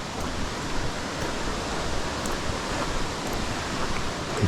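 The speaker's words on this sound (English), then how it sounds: "Listen to that. Wow, that water. It's the low water bridge over here." Water rushing steadily over a low water bridge along a nature walk on a morning, a continuous broadband roar that stays even and close with no voices.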